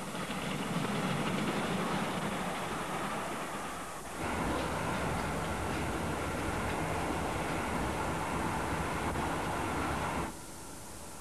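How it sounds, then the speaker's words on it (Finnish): The Venice Simplon-Orient-Express train rumbles steadily along at close range, a broad continuous roar with a brief dip partway through before the noise carries on and then eases. "Nykyään juna on Venetsian Simplonin idän pikajuna ja sen määränpää on Italia."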